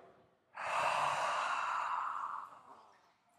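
A slow, deep breath out during a yoga breathing exercise: one long, steady, breathy exhale that starts abruptly, holds for about two seconds, then fades, heard up close with no talking.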